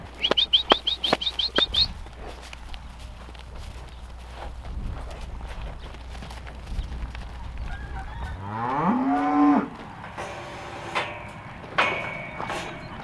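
Cattle being moved through a gate to a pasture moo loudly a few times nearby, with long drawn-out lowing calls, alongside footsteps, rustling and some sharp clattering sounds early on.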